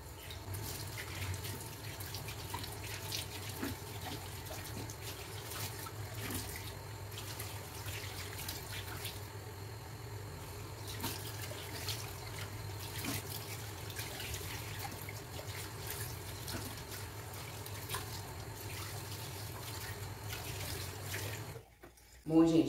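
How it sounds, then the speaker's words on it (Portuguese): A running tap splashes steadily into a sink as the face is rinsed after exfoliating, a continuous close wash of water that stops abruptly near the end. "E agora eu vou enxaguar novamente."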